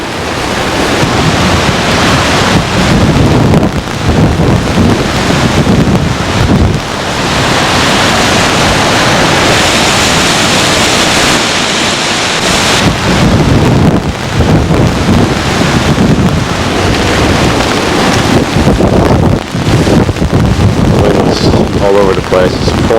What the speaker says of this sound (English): Winds all over the place.